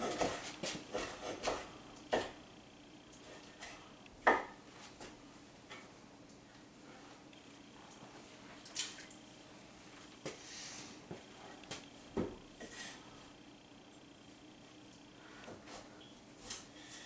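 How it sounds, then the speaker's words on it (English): A knife cuts food into half-moon slices on a board, giving soft, uneven taps and thuds spread across a quiet stretch, some close and a little sharper. "And then I start making little slices. Call them half moons."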